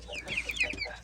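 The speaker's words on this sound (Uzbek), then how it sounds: "Bu jo'jalarimiz va joydori jo'jalar." Home-raised Adler breed chickens and young chicks clucking close by, a quick run of bright, overlapping clucks and chirps.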